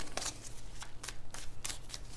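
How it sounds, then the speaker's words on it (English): Tarot cards being shuffled by hand, a run of crisp riffling bursts with short pauses between them, close and fairly quiet over a low steady background hum. "Three more shuffles. All right, last one."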